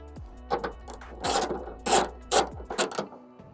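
A ratchet tightens the bolt on a bonnet strut bracket of a Honda Civic: several short raspy bursts of clicking with brief pauses between them, close and alone.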